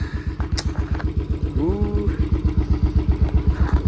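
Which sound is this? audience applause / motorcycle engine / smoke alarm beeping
motorcycle engine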